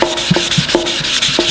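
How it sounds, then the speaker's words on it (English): Glaze spot putty over a small dent in a car body is block sanded in quick rhythmic back-and-forth rasping strokes, close and loud, with no voices. "We're gonna go ahead and finish doing some more block sanding here."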